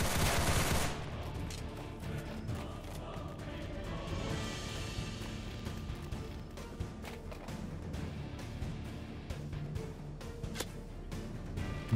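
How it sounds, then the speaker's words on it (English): Gunshots in Roblox Fallen Survival: a loud blast at the start, then scattered sharp shots and bursts of fire over a constant noisy background, some near and some more distant. "I shot him."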